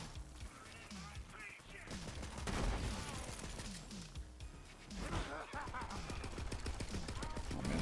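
Rapid bursts of submachine-gun fire in the looter-shooter game Borderlands 3, dense rattling volleys mixed with game effects and music, loud and continuous across the stretch.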